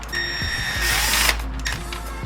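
A power tool whirs steadily as it removes a Torx bolt under the front grille of a BMW G20 M340i. The motor runs loud and close throughout, with ratchety mechanical clicks over a low hum.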